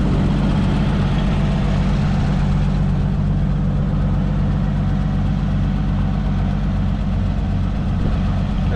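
An Oliver 88 wide-front row crop gas tractor runs steadily, its loud, close, even engine throb holding throughout with no voices.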